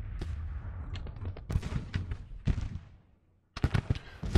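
Cannon bombardment in the Civil War strategy game Grand Tactician, a rapid series of sharp booming blasts and cracks, loud and close, with a brief silent gap before another burst of shots.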